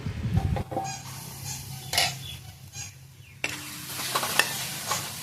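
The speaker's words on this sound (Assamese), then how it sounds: "এইখিনি অকণমান ভাজি আছোঁ" Leafy greens with tomato sizzle and crackle in a hot pan as a spatula scrapes and stirs now and then, close by, with a louder burst of frying near the end.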